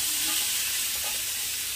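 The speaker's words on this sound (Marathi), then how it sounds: "तेल तापलं पण आता या चटणीला फ्राय करून घ्यायचं आहे" Capsicum chutney fries in a little hot oil in a kadhai over low heat, giving a short, close, steady sizzle with faint stirring scrapes and no voices.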